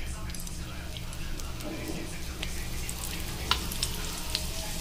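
Oil sizzles softly under a flipped puran poli on a pan. The hiss is faint and even, with a few light taps, and a quiet voice is partly heard.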